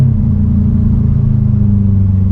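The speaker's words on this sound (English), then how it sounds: "Now, second gear, full throttle." A Subaru WRX STI at full throttle on the German autobahn gives off a loud, steady engine drone with a strong low growl, close and constant for a couple of seconds.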